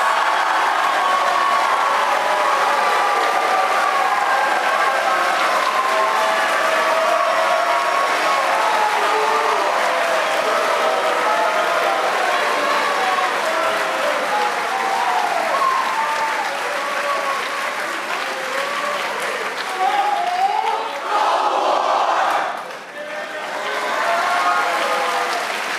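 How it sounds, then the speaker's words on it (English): Graduation audience applause for a summer leaders program awardee at West Point, a large crowd clapping loudly and continuously with faint cheers and murmuring, tapering off near the end. "Please give him a round of applause"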